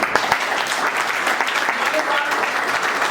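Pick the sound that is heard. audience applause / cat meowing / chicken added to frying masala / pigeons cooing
audience applause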